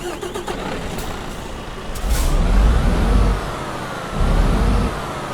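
A 600 horsepower DD16 diesel in a 49X logging truck in American Truck Simulator cranks and starts, with a hiss of air, then a low steady idle that swells twice in deep rumbling surges.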